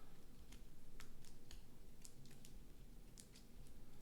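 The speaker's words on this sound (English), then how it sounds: "Alright, shuffle these back up." Cards from a Rambo board game deck being shuffled, a quiet run of crisp flicking snaps and ticks spaced irregularly over a low room hum, with no voices.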